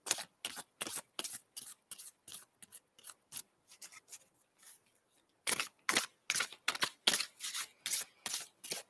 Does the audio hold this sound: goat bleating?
no